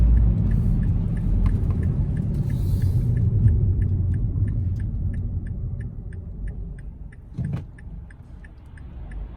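A 2008 Mazda 3 drives along with a steady low engine rumble and road noise, a faint regular ticking running throughout, and a brief clunk near the end as it shifts gears.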